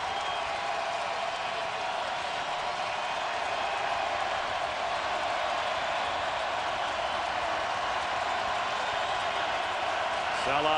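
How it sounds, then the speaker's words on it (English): A sellout stadium crowd in Nashville roars steadily for the defense during a football game, a loud, continuous wash of cheering and noise that holds throughout. "Sellout crowd in Nashville trying to help the defense."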